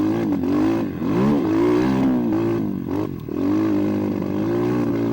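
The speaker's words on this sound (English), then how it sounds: "You can hear me kind of rolling these corners in second gear" An SSR 189 dirt bike engine rolls through track corners in second gear, close and loud, with its pitch rising and falling as the throttle eases off and picks back up.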